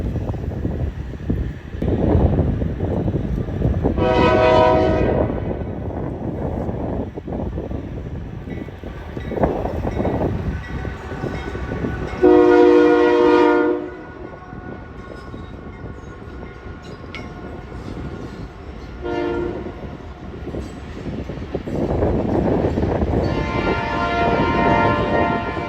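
BNSF freight train with a BNSF GE locomotive, an NS AC locomotive and an NS GE Gevo passing in windy La Crosse, rumbling loudly throughout, with several loud horn blasts, one long blast in the middle and shorter ones before and after.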